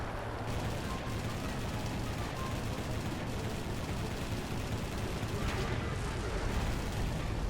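Dense, continuous rumbling gunfire and explosions fill a War Thunder battle. The sound is loud and unbroken throughout, with rapid bursts layered over a heavy low roar.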